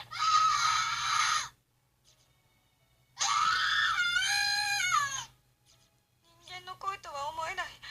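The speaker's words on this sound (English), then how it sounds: "I've never heard screaming like this before. It's pure primal terror, cutting through the air like a perfect sine wave." Harsh, drawn-out screams from the Corpse Party horror video game, two long shrill bursts separated by silence, then a shorter wavering cry, loud and close against a low steady hum.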